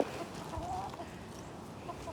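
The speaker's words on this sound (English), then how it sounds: "these chickens love these things." Chickens cluck softly, fed mealworms, with faint, low-level clucks and rustling nearby and no clear talking.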